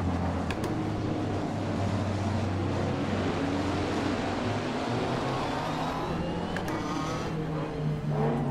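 McLaren GT3 race car in the rFactor 2 racing game, a steady droning engine note held throughout at constant loudness, with faint shifting whine and no talk.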